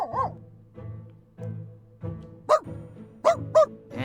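A dog barking up close in a short series of sharp barks and yips, spaced irregularly with a few whimpering tones between them and no talk.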